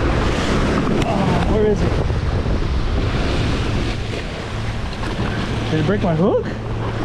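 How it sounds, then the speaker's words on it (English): Strong wind buffets the microphone on a Gulf shore during sheepshead fishing in Surfside, Texas. It roars continuously with surf underneath, while someone talks over it. "Oh shit, the freaking wind."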